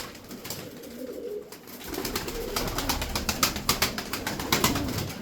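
Soft cooing from tumbler pigeons with low, throaty calls, accompanied by repeated sharp flapping and wing claps growing busier toward the end.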